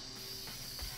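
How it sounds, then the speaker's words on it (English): A spray can hisses in Infamous Second Son, a faint steady airy spray running through the whole moment with a soft thump near the end. "Then we hold R2 to spray."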